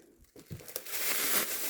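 A plastic packet is opened with crinkling and tearing, starting as a few soft rustles and growing into a continuous close crackle.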